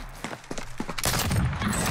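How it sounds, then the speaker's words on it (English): Rapid gunfire in Call of Duty Warzone, a few spaced shots followed by a dense, loud burst of automatic fire that continues to the end. "Taking fire over here!"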